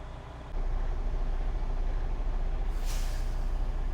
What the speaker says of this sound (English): that was my governor cutoff. It cut off at roughly 125 psi.